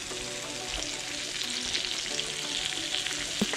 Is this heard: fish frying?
yes